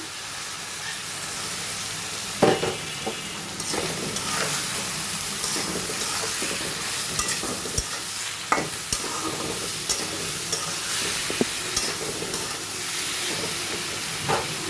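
Mustard, poppy seed and green chilli paste fries steadily in a pan with turmeric, giving a continuous sizzle and hiss with occasional sharper crackles and stirring scrapes, close and fairly loud.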